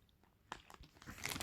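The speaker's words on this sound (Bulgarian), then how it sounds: "За преди ще хапна един чипс." Potato chips are bitten and crunched close to the mic, with a few sharp crackly crunches coming faster toward the end against a quiet room.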